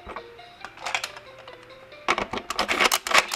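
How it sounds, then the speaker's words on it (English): A train sound effect from a VTech Drill & Learn Toolbox toy plays loudly from its small speaker: a tinny electronic rhythmic burst that grows busier and louder in the second half, following a quieter tonal jingle. "Train."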